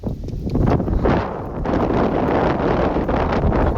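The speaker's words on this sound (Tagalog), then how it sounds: "Ang lakas ng hangin." Strong wind ahead of heavy rain roars and buffets the microphone in loud, rough gusts that rise and fall continuously, with no talking.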